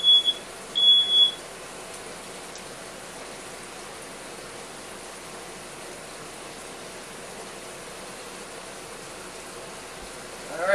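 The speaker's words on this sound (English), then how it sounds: "Fire alarm." A kitchen smoke alarm gives two short, high electronic beeps right at the start, then falls silent beneath a steady hiss from a chicken tikka masala skillet cooking on the stove.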